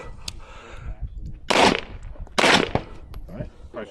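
A 1911 pistol fired at an outdoor range, two loud sharp reports about a second apart with quieter handling noise and faint voices around them.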